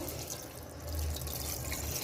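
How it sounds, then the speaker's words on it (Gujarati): A glass of water is poured into a simmering pea and potato curry, giving a steady watery rush that swells partway through and continues to the end, with no talking. "હવે આપણે એક ગ્લાસ એમાં પાણી નાખી દઈશું"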